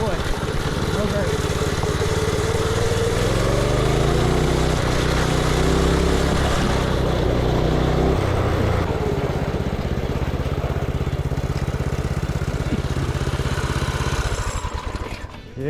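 A 1970s Bonanza mini bike engine runs loud and steady up close, revving and dropping in pitch, with a constant rumbling drone throughout.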